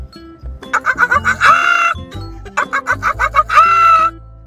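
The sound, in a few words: man imitating a hen's nesting call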